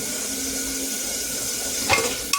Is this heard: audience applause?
no